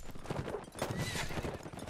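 Horses gallop with rapid clip-clop hoofbeats and neigh in a Mount and Blade: Warband multiplayer battle, a busy, fairly loud clatter of hooves and whinnies with no talking.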